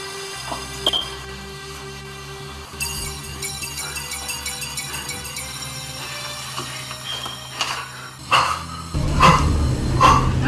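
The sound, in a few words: person imitating a dog barking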